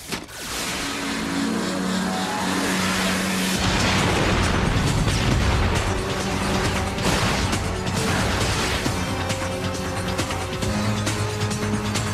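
A loud, sustained rumbling blast roars with crashing debris and rolling booms, dense and continuous for several seconds.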